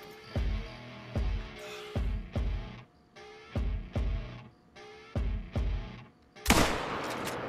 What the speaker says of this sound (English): tell me that was a heart shot